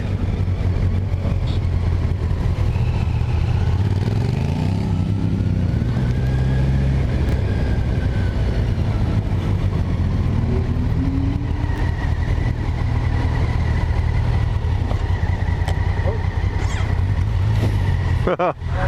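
A Kawasaki Versys 1000 LT SE engine drones and revs continuously while riding, loud and close, with a voice talking over the engine noise.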